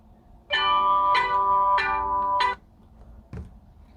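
A smartphone set off by the find-my-phone feature of a smartwatch rings with a clear electronic ringtone of four short repeated melodic chirps, followed by a quiet gap and one faint knock.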